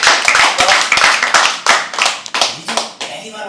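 A small crowd at a live poetry open mic claps for a first-time performer, with sharp, close hand claps in uneven bursts that thin out and fade near the end as a voice begins to speak.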